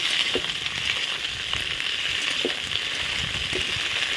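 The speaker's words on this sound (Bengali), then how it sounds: "এখন লবণ হলুদ দিয়ে দেবো একটু ভাজাটা নেড়ে দিই" Cauliflower and chicken fry in a pan, a steady close sizzle broken by a few soft scrapes of stirring at regular intervals, with no talking.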